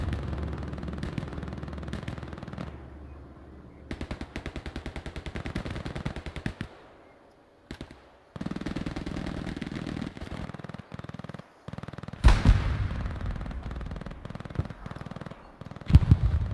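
Bursts of machine gun fire in the World War II shooter Hell Let Loose, rapid rattling volleys alternating with single sharper shots and brief lulls, some close and loud, others more distant.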